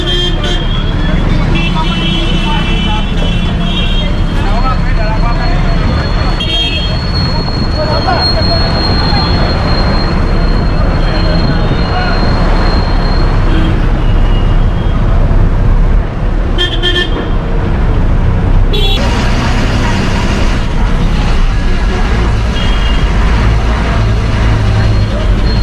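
Busy GSRTC bus depot at Bilimora with a railway station right beside it: loud, continuous traffic rumble and engine noise with horn toots and scattered voices in the background throughout.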